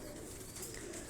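Tiger-breed pigeons on a rooftop loft in Johar Town, Lahore, give a faint, soft, low coo against a steady background hiss.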